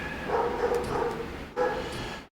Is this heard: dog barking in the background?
yes